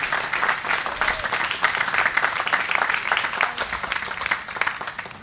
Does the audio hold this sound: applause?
yes